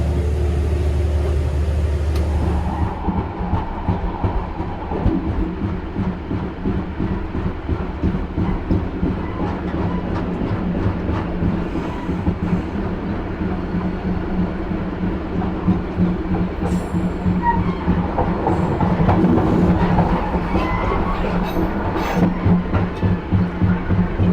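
A passenger train pulls away from Ngawi station in Indonesia, a steady low rumble with rhythmic clickety-clack of wheels over rail joints building in pace, close and continuous.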